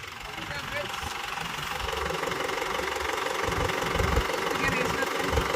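A tractor engine running steadily at close range, headed out to plough a paddy nursery, its low knocking chug slowly growing louder while a voice talks over it.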